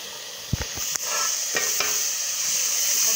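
Onion and tomato masala frying in a pan for a village-style chana dal with bottle gourd, a steady hiss and sizzle broken by a few sharp stirring clinks and scrapes near the start.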